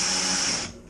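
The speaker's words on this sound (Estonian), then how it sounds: "Et ma panen keskele ka kruvi." A power drill whirs steadily at close range as it drives a screw into a wall-mounted quail cage, its motor easing off near the end before spinning up again; no one speaks.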